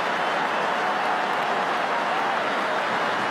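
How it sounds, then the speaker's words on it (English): Dense, steady roar of a large football crowd cheering and applauding at an AFL elimination final, a continuous wash of noise with no clear gaps or voices standing out. "Crowd are loving it."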